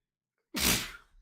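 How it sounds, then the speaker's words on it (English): A single sharp sneeze bursts out after a half-second of silence, close and loud, trailing off into a breathy exhale. "I got attacked by the sneeze monster"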